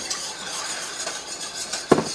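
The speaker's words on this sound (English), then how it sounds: "I'm just going to whisk it up really good here." A whisk stirs white sauce in a pot, a soft continuous swishing with faint scraping, ending in a sharp metallic tap against the pot's rim.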